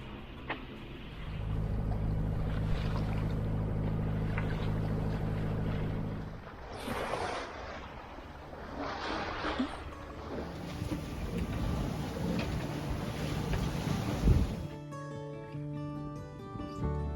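A sailboat under way on the open Aegean sea toward the south side of Samos Island, with steady wind rushing past the microphone and water washing along the hull, a continuous moderate wash with no one speaking.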